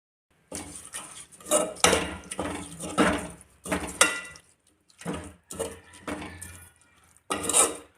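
Tomato chutney is stirred in a pan at home, a spoon scraping and clinking against the metal in repeated bursts separated by short pauses, close and fairly loud with no talking.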